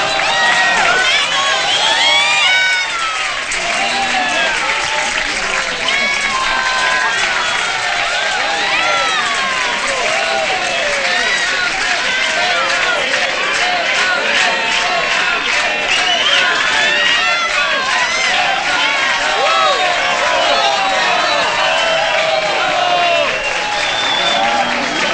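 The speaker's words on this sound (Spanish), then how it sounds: "pido un fuerte aplauso" A large audience in a film scene bursts into sustained applause and cheering for a famous singer-songwriter being introduced on stage, a dense, loud roar of clapping and shouts holding steady for the full length.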